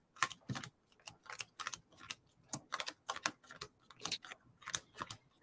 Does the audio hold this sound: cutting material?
no